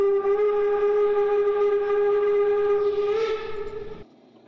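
A steam locomotive on the Brockenbahn in the Train Simulator Classic game sounds one long, loud, steady whistle blast that cuts off near the end, leaving a low rumble of the train underneath.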